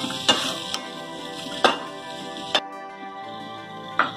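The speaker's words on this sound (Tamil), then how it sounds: "உருளைக்கிழங்க சேர்த்து நல்லா கலந்து விடுங்க." Potato pieces being stirred with chili powder and salt in a pan, a low steady sizzle broken by a handful of sharp spoon-on-metal clinks at irregular intervals.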